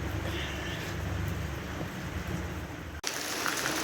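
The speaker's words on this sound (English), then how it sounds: "this unexpected torrential rain, what a downpour" Torrential rain pours down steadily in an unexpected downpour at a seaplane work site, a dense continuous hiss that cuts out briefly near the end before resuming.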